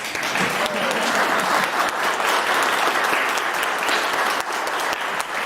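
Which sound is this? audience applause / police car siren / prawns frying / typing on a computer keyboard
audience applause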